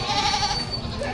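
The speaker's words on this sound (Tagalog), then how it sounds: "Itong tatlong kambing na to na." Goats bleat in a short, wavering call at a cattle, goat and carabao livestock market in Padre Garcia, Batangas, with background crowd noise around it.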